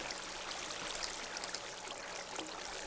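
Water flows steadily through pumps in the video game BuildCraft, a faint, continuous rushing stream with no pauses.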